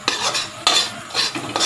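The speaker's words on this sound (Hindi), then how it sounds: "कटहल को थोड़ा सा गोल्डन होने तक भूंज लेना है, कुछ इस तरह से जैसे मम्मी जी अभी भूंज रही हैं" Jackfruit pieces being roasted and stirred in a kadai over a high flame, a spoon scraping and rattling through the pieces in several loud, close strokes over a steady sizzle, with no talking.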